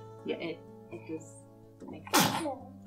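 A single sharp sneeze bursts out close and loud near the end, after someone speaks over a steady electrical hum.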